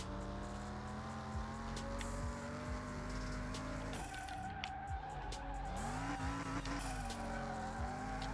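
Mitsubishi Evo VII tuned to around 500 horsepower in the Car Mechanic Simulator 2021 video game, its engine droning steadily as tires squeal and skid through a spin, the pitch sweeping and wavering continuously.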